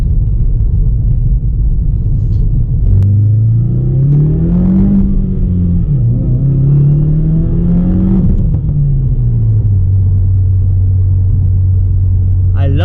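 Engine of a 2016 Subaru WRX heard from inside while driving: a loud, steady rumble that rises and falls as it revs up and settles back, with an occasional sharp exhaust pop near the end.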